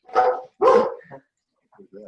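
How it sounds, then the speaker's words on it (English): A puppy on a webinar call gives two sharp, close barks, followed by a few softer yips and whimpers. "who's got the puppy dog?"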